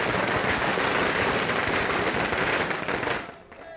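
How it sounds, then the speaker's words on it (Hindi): Fireworks set off by party workers outside the Congress office in Dehradun after an election date announcement, a dense, loud crackling burst of rapid pops that fades near the end. "कांग्रेस भवन में पार्टी कार्यकर्ताओं ने जमकर आतिशबाजी की"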